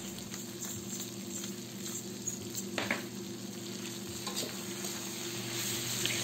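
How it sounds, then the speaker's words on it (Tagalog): Chicken and potatoes fry in a pan as someone stirs them, a steady soft sizzle broken by occasional scraping taps of the utensil, heard up close at low volume. "Haluin lang natin."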